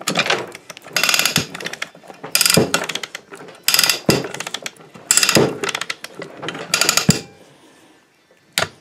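A rusty 1 ton Tugit chain hoist clicks through its ratchet in gear, with five or six loud, close bursts of rapid ratcheting separated by short pauses.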